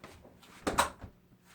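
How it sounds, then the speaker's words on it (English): A door being pushed shut indoors while checking a leaky door seal, a single soft thud near the middle with a brief rattle after it, close by and moderately quiet. "we're going to close the door"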